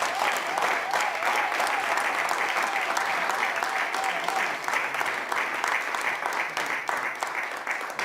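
An audience claps steadily at a UDPS Norway federation gathering, a dense sustained round of applause with a voice faintly audible over the first few seconds.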